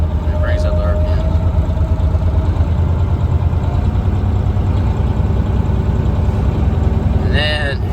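A Mack truck engine runs with its manual idler pulled out to raise the RPM, producing a loud, steady, close low rumble that holds throughout, with a brief higher whine near the end.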